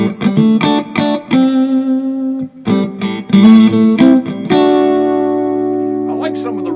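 A Monoprice Indio Classic OS20 offset electric guitar plays through effects, with the neck pickup rolled off: plucked notes and chords ring loud with reverb-like sustain, ending on a long fading chord.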